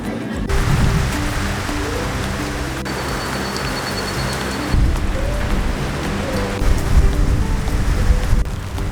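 Hail drums hard and steady on a van roof outside, a dense loud clatter that swells and eases over several seconds, with no voices.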